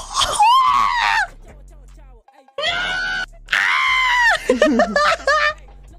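Several long, high-pitched screams and wails from one voice, loud and strained, separated by short gaps of near silence.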